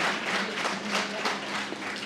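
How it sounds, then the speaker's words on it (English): Wrestling crowd at a Hybrid School of Wrestling championship main event applauding, a steady wash of clapping from many hands that fills the whole moment at moderate loudness. "And the crowd appreciates it."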